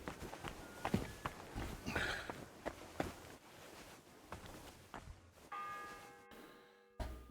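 A church bell rings in Kingdom Come Deliverance 2, following a stretch of in-game footsteps, and ends in a sustained, ringing tone before a short silence.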